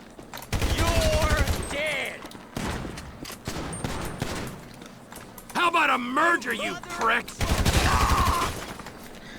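Bursts of rapid gunfire crackle in volleys in the video game GTA 5, mixed with shouting voices and game sounds, loud and chaotic.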